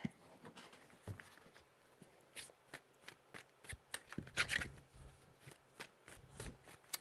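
Tarot cards are shuffled by hand in a quiet room, with a run of soft, irregular riffling taps and slaps at close range.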